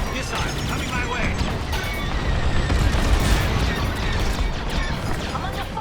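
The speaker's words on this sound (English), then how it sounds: "I'm under fire!" Enemy blasters strike a starfighter during a Star Wars: Squadrons space battle, a loud, continuous barrage of crashing hits and bursts with a heavy low rumble that swells toward the middle.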